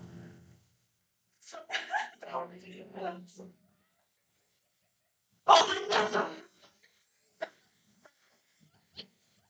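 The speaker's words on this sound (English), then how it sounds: "Or no, that's the neighbor's dog." A neighbor's dog barks indoors-distant in short, scattered yips and woofs, some faint and brief, interleaved with people talking nearby.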